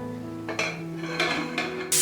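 A pressure cooker lid is set down and closed over potatoes for a Kerala potato curry, giving a few close metallic clanks and scrapes about half a second apart, ending in a brighter clatter.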